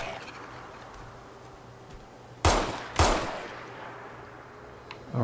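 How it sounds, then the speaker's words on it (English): Two sharp pistol shots about half a second apart, loud and close, fired at slow zombie-type enemies in Fallout 4, each followed by a brief decaying tail over a quiet ambient hum. "So we can switch back to our pistol. Gotta shoot him in the head."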